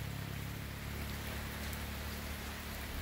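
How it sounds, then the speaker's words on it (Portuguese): Gentle, steady rain falling on a farm plot in the Brazilian sertão countryside near Cruzes, a soft even hiss with a low constant hum underneath, continuous and without voices. "A chuva serena aí, mas boa, boa, boa mesmo."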